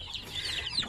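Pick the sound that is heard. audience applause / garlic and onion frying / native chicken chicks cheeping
native chicken chicks cheeping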